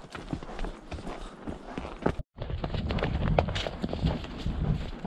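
Mule hooves clip-clop steadily on a steep mountain trail, close and rhythmic beneath wind and rustling, with a brief dropout partway through.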